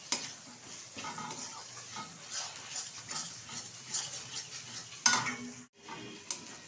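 Chopped tomato goes into spices frying in oil with ginger and garlic paste, giving a soft continuous sizzle with scraping stirs and a sharper clatter near the end.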